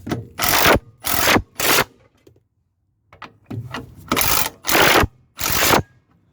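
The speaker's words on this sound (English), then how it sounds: "I couldn't imagine doing this by hand without this gun." An impact gun tightens the cross-member bolts, firing several sharp, loud rattling bursts in quick succession, a brief pause, then another run of four hammering bursts up close.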